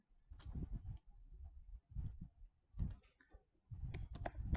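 A computer mouse clicking, a few quiet, sharp clicks spaced apart with short pauses between them.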